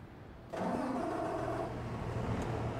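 A vehicle engine in Farming Simulator 22 starts up abruptly and settles into a steady mid-pitched running drone, fairly quiet and alone.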